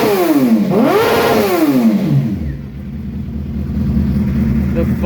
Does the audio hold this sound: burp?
no